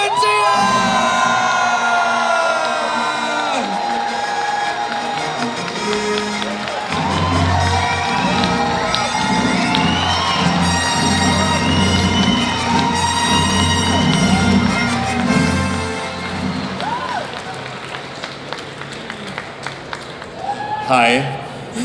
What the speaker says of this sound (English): Start your round of applause now.